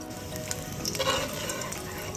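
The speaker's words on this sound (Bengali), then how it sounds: "ওই তেলের মধ্যে আমি ডিমটাকে একটু হলুদের গুঁড়া দিয়ে মাখিয়ে ভেজে নিচ্ছি।" Egg coated in turmeric powder shallow-frying in leftover oil in a home kitchen, a steady crackling sizzle with a few louder pops, moderately close and with no voices.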